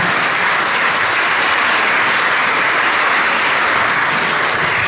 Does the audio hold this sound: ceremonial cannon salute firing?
no